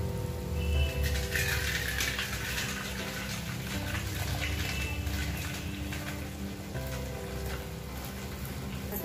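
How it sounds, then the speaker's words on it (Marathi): Water drained off boiled vegetables for butter pav bhaji, a steady splashing pour running continuously and fairly close throughout. "शिजलेला आहे, त्यातलं मी पाणी काढून घेत आहे"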